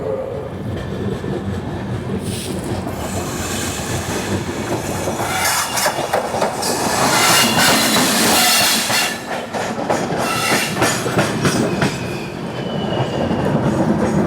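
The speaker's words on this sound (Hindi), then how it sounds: "ये है ओखा बिलासपुर एक्सप्रेस" The Okha Bilaspur Express passes close and loud, a sustained rumble of rolling coaches with rhythmic clickety-clack and bursts of squealing wheels that swell midway and stay strong to the end.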